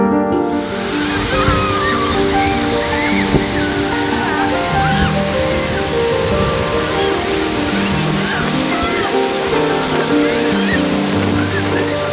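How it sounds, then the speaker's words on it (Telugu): Gandahati waterfall near Paralakhemundi in Odisha roars in a loud, constant wash of falling water, with a faint voice or tonal sound layered over the steady rush. "ప్రస్తుతం మనం ఒరిస్సా రాష్ట్రంలో పర్లకిమిడికి అతి సమీపంలో ఉన్న గండహతి వాటర్ ఫాల్స్ వద్ద మనం ఉన్నాం"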